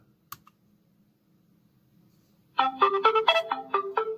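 A cheap Bluetooth speaker sounds its start-up prompt: a quick tonal jingle or synthesized voice announcing the mode, fairly loud and clear in a quiet room, preceded by a faint click.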